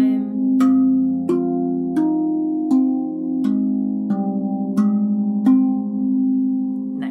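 A rav drum, a steel tongue drum, plays a simple beginner pattern: about eight clear, ringing strikes at a steady pace, each tone sustaining and overlapping into a warm, bell-like drone, with no voices.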